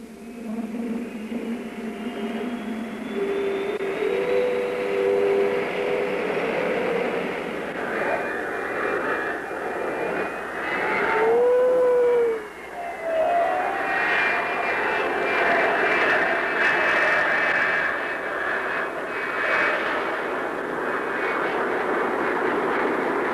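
A USAF F-104A Starfighter jet fighter's engine roars loud and continuous, with a rising whine and a surge partway through as the aircraft climbs away.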